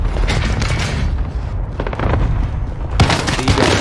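Shotgun fire in the video game Warzone on Rebirth Island, loud, booming blasts with heavy rumbling gunfire layered throughout, a fresh sharp report near the end.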